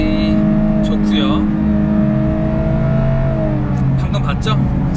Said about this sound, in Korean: 엔진음이 상당히 좋고요